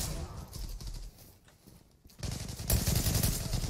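Bursts of automatic gunfire in the online shooter Zula crackle at moderate volume, fade to a quieter lull midway, then return louder and denser toward the end.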